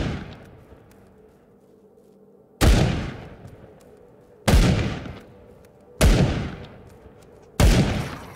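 Four loud, booming shots from a slow-firing gun in the survival shooter Will To Live Online, spaced about one and a half seconds apart, each trailing off in a long echoing tail.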